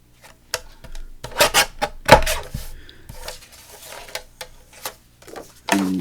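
Scissors or a craft tool cutting paper for a journal pocket, a series of close, irregular rasping snips and rubbing scrapes with short pauses between them, with no talking.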